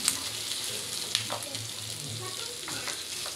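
Beef bones for kaldereta sauté in a pan, a steady sizzle and fry with occasional sharp scrapes and clinks of stirring, close and moderately loud.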